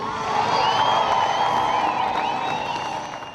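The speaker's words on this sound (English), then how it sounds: "Barnsley gave them a huge cheer to send them on their way" A large roadside crowd in Barnsley cheers and whoops as Tour de Yorkshire cyclists set off from the start, a loud sustained roar with high shouts and whistles that fades slightly toward the end.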